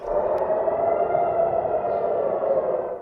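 A steady, sustained air-raid siren in Israel during Iranian missile and drone attacks drones continuously at a fairly even pitch, loud and unbroken throughout.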